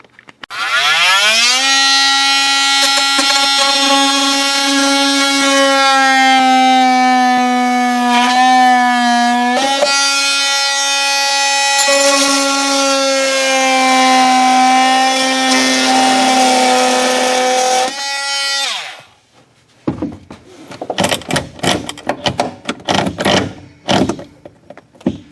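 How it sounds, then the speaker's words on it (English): A sawzall cuts through a compact factory car shifter with a loud, whining motor tone that rises at the start and holds steady, dipping now and then under load. After it stops, a few short, choppy bursts follow. "It's just a sawzall."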